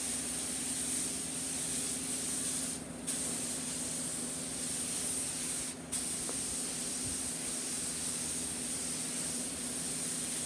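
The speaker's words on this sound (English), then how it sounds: "adjust my air pressure and go ahead and start spraying it." An airbrush sprays paint onto a motorcycle helmet during a custom paint job, giving a steady, close, continuous hiss of compressed air that breaks off for two brief moments, with no voices.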